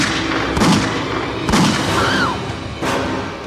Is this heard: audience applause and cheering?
no